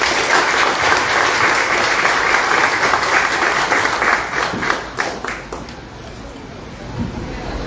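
Audience clapping at a book presentation, a loud, dense burst of applause from the crowd that thins into scattered claps and murmuring toward the end.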